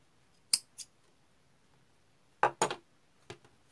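Scissors snip crochet yarn while a rug is being worked, with a couple of crisp metallic cuts, a pause, then another cluster of sharp snips, close and clear in a quiet room.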